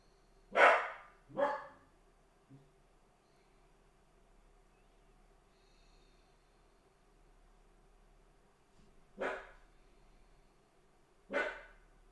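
A dog barks four times, two close together at the start and two more after a long quiet gap, each bark loud and nearby over a low steady hiss.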